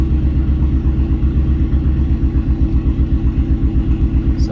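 A turbocharged LS car engine idling close by, running lean, a deep steady rumble with a regular pulsing throb and no one speaking.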